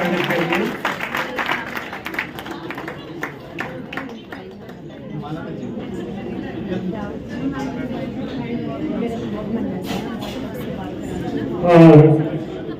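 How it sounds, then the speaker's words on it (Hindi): Audience applause welcoming a guest at a Dhanvantari Day celebration held by NIMA, a steady broad clapping wash that runs the whole length under a host's voice, with a brief louder burst near the end. "जोरदार तालियां बजाकर स्वागत करिए।"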